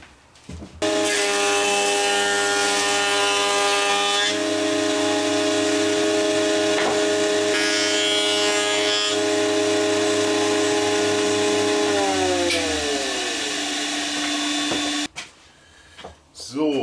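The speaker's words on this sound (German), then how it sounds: "ich hau das jetzt durch den dicken Hobel" A board for a cutting board fed through a thickness planer, a loud sustained machine whine with a steady tonal hum that drops in pitch as the cut loads and winds down, then cuts off abruptly near the end.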